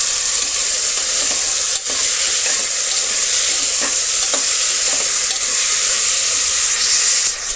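Three thick-chopped tomatoes with curry leaves fry in a pan, a loud, steady sizzle with faint stirring scrapes and a few brief dips.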